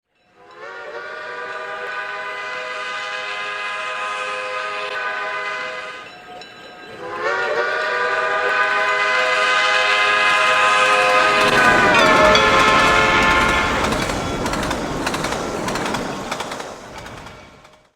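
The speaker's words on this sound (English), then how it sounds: "watch it do over 110 miles per hour with a passenger train" A steam locomotive's whistle sounds a long sustained chord, pauses briefly, then blows again loudly as the rumbling, clattering rush of an I-5 class engine pulling a passenger train at over 110 mph rises beneath it.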